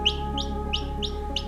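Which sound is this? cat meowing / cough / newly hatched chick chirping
newly hatched chick chirping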